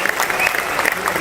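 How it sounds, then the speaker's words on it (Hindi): An audience claps briefly at a small indoor talk, a short burst of scattered applause lasting about a second. "तालियां तालियां।"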